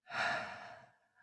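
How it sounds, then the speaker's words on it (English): A single deep inhaled breath during a guided mindfulness exercise, close and soft, swelling quickly and then tapering off over about a second, with no talking. "Take 3 more big, deep breaths in"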